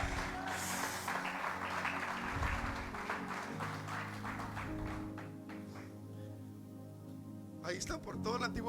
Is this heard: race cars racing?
no